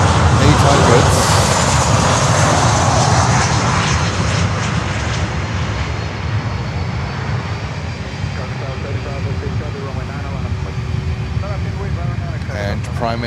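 An American Airlines Boeing 737-800 jet comes in to land near an airport, its loud broad engine roar sweeping steadily through the whole stretch, with a faint tonal whine rising late, under occasional talk.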